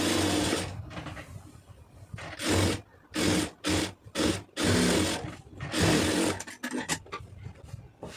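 A sewing machine stitches lace onto a round neckline in close, loud bursts of rapid whirring, several runs separated by short pauses, with no talk.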